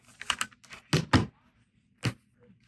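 Scissors or a cutter slicing quilting fabric for a reversible table runner, a few quick crisp snips and thunks close by in a quiet room.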